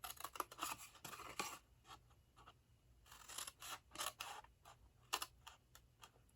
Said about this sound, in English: We're just going to cut straight up and not jab myself, ow, with the scissors.